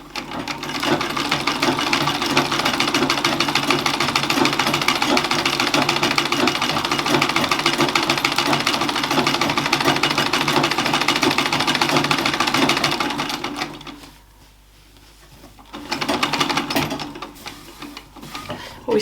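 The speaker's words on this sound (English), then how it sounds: "Now I'm going to see if it's possible to concentrate on my feet treadling at the same time as trying to quilt it" A treadle sewing machine quilting with a steady fast mechanical whir and rapid needle ticking, running continuously for a long stretch before briefly stopping and starting again, no talk.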